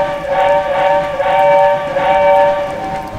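A steam train whistle sounds loud and close, a sustained, rich tone that swells in two or three pulses and holds steady throughout, with no speech.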